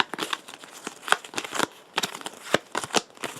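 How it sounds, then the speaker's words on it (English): A small deck of game cards is shuffled by hand during an Aeon's End tabletop session, producing close, crisp riffling and slapping bursts in an irregular rhythm. "Now we got to shuffle up our draw deck and go again."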